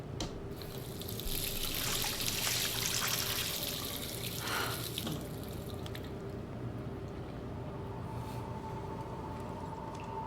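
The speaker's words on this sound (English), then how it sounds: "Splashing cold water into your face." Cold water splashed onto a face in the Life is Strange video game, a steady rush of running and splashing water that swells and then settles into a lower trickle, close and continuous.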